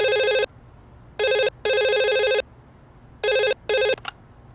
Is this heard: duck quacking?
no